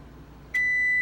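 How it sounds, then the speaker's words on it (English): After a quiet hum, a single steady electronic beep from an oven signalling it has preheated to 350 starts and holds, loud and close. "That buzzer was the oven saying I'm at 350."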